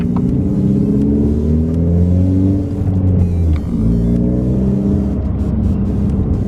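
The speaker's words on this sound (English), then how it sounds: "My exhaust is the CorkSport Power Series exhaust." A Mazda 3 with a CorkSport Power Series exhaust revs loudly and close up, its deep droning note climbing and falling through a couple of throttle blips over a rumbling idle.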